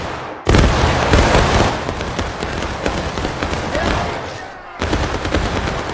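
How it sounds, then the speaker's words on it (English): A musket volley fired by IVB infantry during a large multiplayer battle in a Civil War video game, a loud crackling burst of many overlapping shots rolling on for several seconds, with another ragged wave breaking out near the end. "Great volley by the IVB there."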